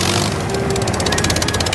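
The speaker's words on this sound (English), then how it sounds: "and a petrol engine that sounds like this." A mobile crane's petrol engine runs steadily in a short burst, a continuous mechanical drone with a pulsing, rattling texture that grows slightly rougher partway through, with no talk.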